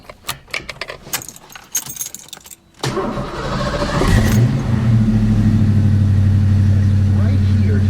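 Keys jangle near the ignition, then a Ford Mustang 5.0 with headers, Flowmaster mufflers and a 5-speed, running off a jump start, cranks and catches, settling into a loud, steady, deep idle rumble.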